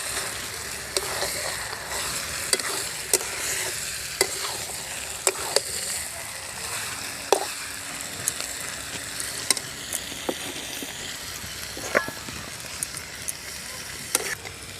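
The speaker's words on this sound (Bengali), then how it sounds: "এখন ম্যারিনেট করা মাংসটা দিয়ে দেব। মাংসের সাথে মশলাটা মিশিয়ে দেব।" Marinated chicken being mixed with cooked-down spice paste in a hot pan, with a continuous sizzle and regular sharp scrapes and knocks of a spatula, close and steady for the whole stretch.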